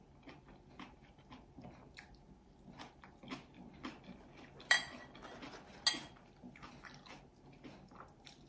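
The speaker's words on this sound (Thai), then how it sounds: "เห็ดขอนสนมีความกรุบๆค่ะ" Crunchy pine mushroom salad dressed with roasted chili paste and lime juice being chewed close up, a string of crisp bites and small wet crunches with faint clinks of cutlery, two sharper crunches standing out midway.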